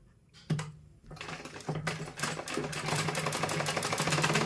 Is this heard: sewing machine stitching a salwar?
yes